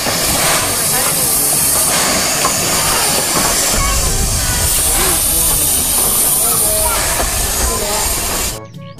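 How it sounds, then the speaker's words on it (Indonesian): A Thomas toy train gives off a steady steam-like hiss with a faint rattle of rail clatter. It runs close and fairly loud for about eight seconds, then cuts off abruptly. "Yang ini ada kereta Thomas."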